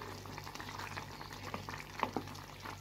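Fava beans with tomato and cumin stirred in a pot, a soft continuous sizzle and bubbling with a few scraping clicks of the spoon near the end, close and fairly quiet.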